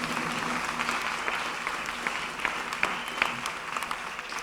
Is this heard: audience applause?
yes